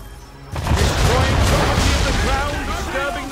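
An enemy gunboat fires its cannons at sea in Assassin's Creed 3. A sudden heavy boom hits early, then a rolling, crashing roar of gunfire and splashing continues loudly with voices over it.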